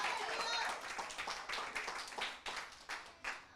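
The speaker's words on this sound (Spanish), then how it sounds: "Dale un aplauso fuerte," A church congregation applauds loudly and steadily, the claps blending into a dense patter that continues under a preacher's raised voice.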